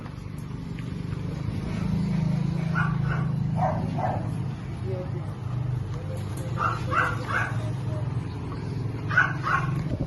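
Small teacup puppies bark and yip in short bursts at a pet market in Bocaue, Bulacan, with high yelps coming in clusters over a steady crowd and traffic hum while someone talks nearby.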